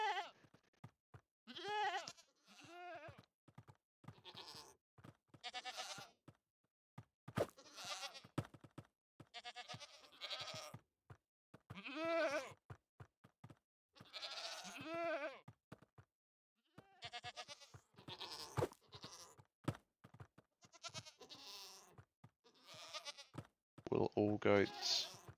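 Goats bleating in the video game Minecraft, short bleats scattered among frequent talking from a nearby voice that dominates the clip.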